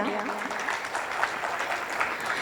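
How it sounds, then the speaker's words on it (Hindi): An audience at an award ceremony claps in a steady burst of dense, continuous applause, heard from within the hall. "एक बार पुनः जोरदार तालियां"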